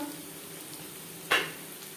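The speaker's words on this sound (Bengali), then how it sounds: "দিয়ে দেবো দুটো পেঁয়াজ কুচি দু তিন মিনিট ভেজে নেওয়ার পর" Chopped onions hit hot refined oil already fragrant with panch phoron and bay leaves for a prawn, potato and cauliflower curry: an even close sizzle, then one sharp louder spit near the end.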